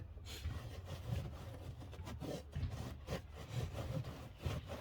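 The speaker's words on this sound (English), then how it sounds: "Then I'm gonna wipe it down with a wet rag." A wet rag wiping the body panel of a 2016 Audi A7 after emblem removal, a close series of rhythmic rubbing strokes, moderately quiet, with no talking.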